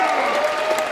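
Crowd applause rises in a brief burst from an audience at a live event, a dense wash of clapping with voices mixed in.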